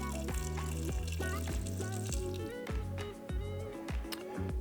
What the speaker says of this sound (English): I guess I will fill in just a little bit more.